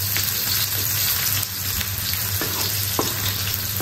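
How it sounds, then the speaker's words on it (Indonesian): Onion and ginger sautéing in hot oil in a pan, a constant close crackling sizzle with a few soft stirring clicks, heard alone without talk. "Sekarang masukkan bahan-bahan ni. Bawang dan halia. Kita tumis dahulu bahan-bahan ni."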